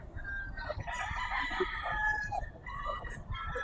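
A gamecock crows at a busy rooster market, a clear drawn-out call over a steady din of other fowl clucking and crowing nearby, with faint background chatter.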